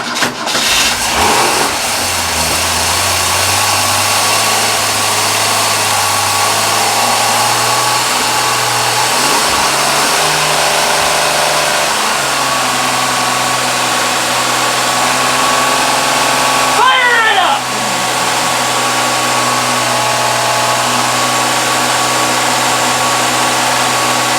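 A Ford 200 inline-six with a two-barrel Holley Sniper 2300 throttle body and Hyperspark ignition cranks and fires on its first start, then settles into a loud, steady, close idle whose pitch shifts as the throttle is adjusted.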